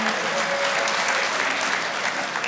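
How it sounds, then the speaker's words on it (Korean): Members at a construction union's general meeting clap loudly and continuously, a close, dense wash of applause from start to finish. "서로에게 박수 한번 보내주세요."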